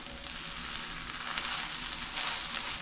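Shrimp vegetable fried rice sizzles steadily in a pan as it is stirred and mixed, a continuous close frying hiss with no talk.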